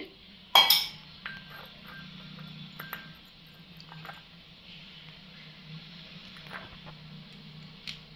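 Faint clinks and taps of a spoon working purple colour into rice flour in a bowl, with one sharp knock near the start, then soft intermittent scraping over a low steady hum.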